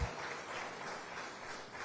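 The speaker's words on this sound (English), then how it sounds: "Let's give them a big round of applause." Audience applauding at a business award ceremony held by the Madras Management Association, a steady, even wash of clapping that holds quietly and fairly distant for about two seconds with no talk over it.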